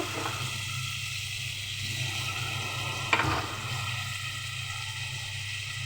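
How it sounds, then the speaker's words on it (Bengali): Water poured into spice paste frying in oil for a fish curry with tuna and tilapia, giving a steady close sizzle with a sharp splash and burst near the middle, then continuing to hiss. "এখন আমি পানি দিয়ে দেবো।"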